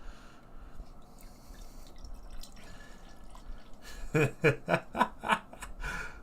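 Cross The Streams beer from Noon Whistle Brewing and Old Irving Brewing glugs into a pint glass, a run of about six rhythmic, fairly loud pouring gulps after a quiet, faintly noisy lead-in.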